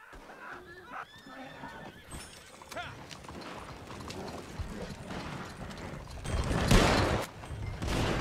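Horses in the Western video game Red Dead Online clatter and neigh amid mechanical clicks and busy game noise, growing louder toward the end while someone talks over it.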